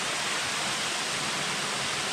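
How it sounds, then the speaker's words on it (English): A tall waterfall on a river in St Vincent roars in a steady, dense rush of broadband water noise that holds evenly throughout, close and fairly loud with no voices. "But the waterfall behind there."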